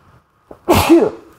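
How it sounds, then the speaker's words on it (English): A single close, loud sneeze with a short sharp intake of breath just before it, in an otherwise quiet room. "I'm going to sneeze"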